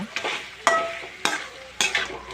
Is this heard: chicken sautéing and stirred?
yes